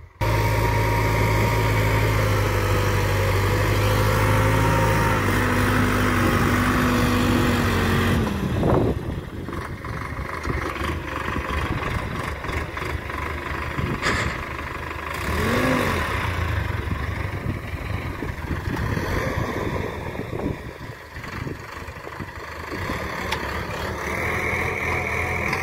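A Sonalika tractor engine running with a steady chugging drone, loud and close at first, then continuing at a lower level with some shifts in pitch as it moves.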